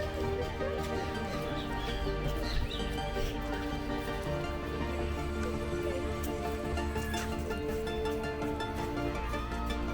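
Horses neigh and whinny now and then over a busy outdoor background in Areguá, Paraguay, with faint clopping and bird calls mixed in.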